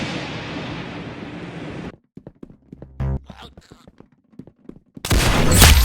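Gunfire in a mobile shooter video game, with a dense, loud burst of shooting, then a quieter gap of clicks and footsteps, and another heavy burst of fire at the end.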